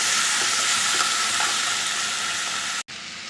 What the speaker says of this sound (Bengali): এই যে লতিগুলোকেও দিয়ে দিচ্ছি একটুখানি নেড়ে দেবো